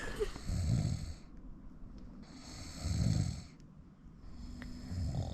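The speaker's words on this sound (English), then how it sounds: "snoring away while I lie here with a knife under my bloody pillow" Slow, rhythmic snoring from someone nearby while camping, each deep rumbling inhale separated by quieter breathing, with a faint hiss in the background.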